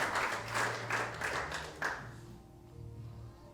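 A church congregation claps during a sermon, a fairly faint, distant burst that swells in waves and then fades out, leaving a low hum.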